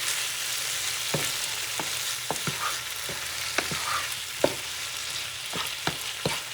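Tomatoes fry in a pan for a ribeye steak pasta salad, with a steady hissing sizzle and sharp pops and spatters at irregular moments. No one speaks.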